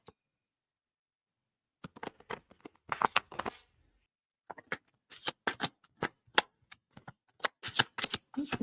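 A deck of oracle cards is shuffled close by after a short silence, in quick crisp bursts of riffling and flicking with brief pauses between them.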